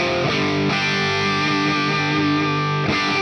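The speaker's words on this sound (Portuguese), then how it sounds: "E é claro que não pode faltar um Marshall aqui, simulação de 800, com a caixa 4 de 12 com greenbacks." An electric guitar plays through a Valeton GP-5 Marshall 800 amp simulation with a 4x12 Greenback cabinet at high gain, giving a loud, distorted, sustained chord that rings steadily and is briefly restruck, with no voice over it.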